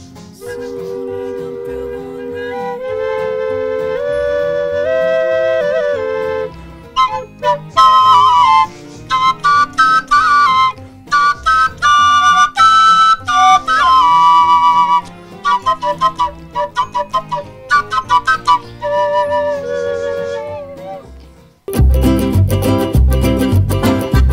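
A dulzaina, a paired double flute with both pipes sounding in unison, plays a bright melodic line with sustained and quick staccato notes for about twenty seconds, ending in a louder burst of sound.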